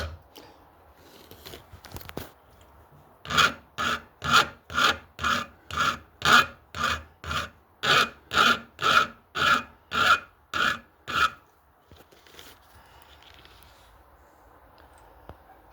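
Tempered steel held in a vise being filed, a run of about fourteen evenly spaced, loud rasping strokes after a few quieter scrapes, then stillness.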